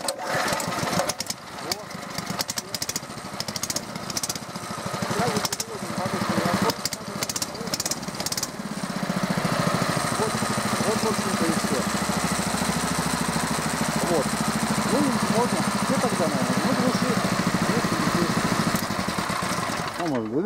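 Twin-engine Sapsan 18B-2D airboat with tiller-mounted propulsion units starts up: sputtering, stuttering cranks give way to a steady, close engine drone with rough vibration, and people talk over it.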